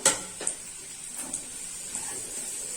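Ginger-garlic paste and onions are tossed in a hot pan, a soft steady sizzle punctuated by a few light scrapes and clinks of a spatula against the metal.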